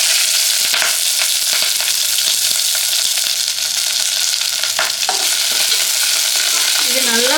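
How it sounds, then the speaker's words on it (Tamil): Sliced onions and green chilies frying with whole spices in a hot pan for fish biryani, a steady loud sizzle with stirring scrapes throughout, close and continuous. "இது நல்லா ஃப்ரை ஆகுதுங்க."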